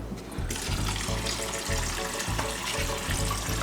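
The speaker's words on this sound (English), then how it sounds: "just get a little bit of water." Water runs steadily from a kitchen tap while brownie batter is being made, a close, continuous splashing stream that lasts the whole time, with no talking over it.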